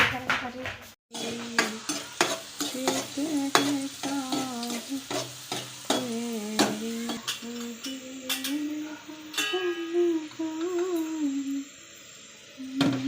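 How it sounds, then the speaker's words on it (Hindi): Vegetables sizzle in hot oil tempered with garlic and asafoetida while a spoon scrapes and clinks against the pan with each stir, and a voice talks over the cooking throughout. "फिर थोड़ा सा लहसुन और थोड़ी सी हींग डालकर सब्जी को मैंने छोंक दिया है"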